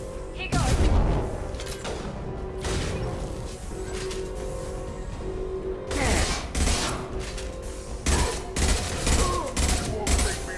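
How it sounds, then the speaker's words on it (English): Heavy gunfire in the video game Mass Effect 2, with sustained bursts of shooting and booming impacts that come in dense rapid volleys, loud and close. "Taking heavy fire."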